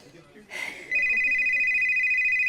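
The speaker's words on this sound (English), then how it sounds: "Oh, thank God, the phone." A telephone starts ringing with a loud, sustained electronic tone right after a short gasp-like breath, then keeps ringing steadily to the end.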